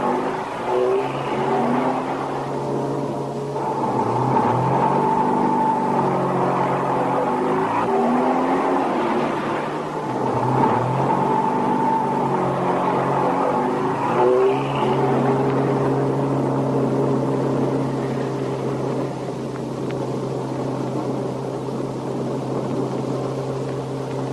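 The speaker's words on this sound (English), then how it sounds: "Does your book also teach you how to drive a diesel truck?" A diesel truck engine runs steadily, its low droning hum rising and easing in waves as it drives, loud and close with no voices, in a 1965 action film scene.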